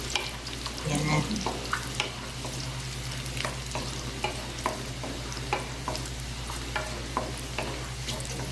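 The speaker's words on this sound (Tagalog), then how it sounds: "Igisa lang natin siya, haluin ng haluin para hindi siya masunog." Garlic and onion sautéing in a pan for ampalaya with egg, a constant sizzle under a run of regular scraping and tapping stirs, with a brief spoken word near the start.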